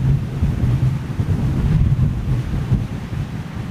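Strong, gusty crosswind buffeting an outdoor microphone at an airport, a loud low rumbling roar that swells and eases continuously, close and dominant, with no voices.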